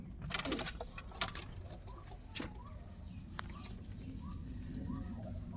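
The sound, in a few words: pigeons in a pigeon seller's loft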